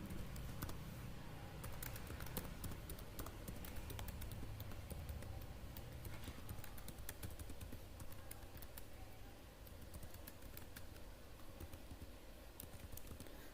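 Steady typing on a computer keyboard while entering a package name for Entity Framework Core, a continuous stream of light key clicks at an even rhythm, close but faint over low room noise with no talking.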